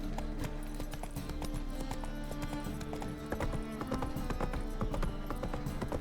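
Roach, the horse in The Witcher 3, gallops with rapid, rhythmic hoofbeats that drum continuously and close by over a dense game soundscape.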